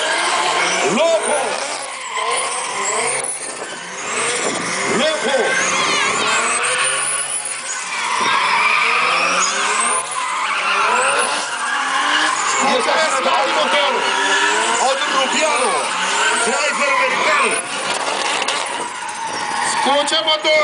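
A race car engine roars loud and sustained with rising and falling pitch sweeps, tires squealing and skidding at moments, while voices talk throughout.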